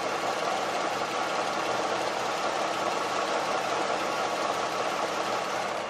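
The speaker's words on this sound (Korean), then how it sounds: "바로 엔진 소리 한번 들려드릴게요." A 3.5-litre V6 gasoline engine in a Lexus RX350 SUV idles steadily, a smooth, even hum heard up close and alone for several seconds with no talk.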